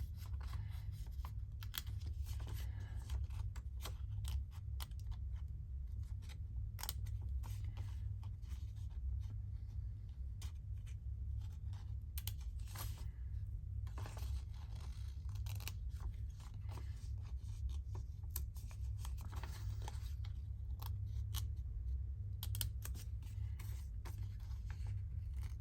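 Scissors snip through fragile paper ephemera during a crafting session, giving a steady run of soft, close cutting and rubbing sounds over a low constant hum, with no talking.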